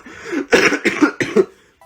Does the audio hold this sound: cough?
yes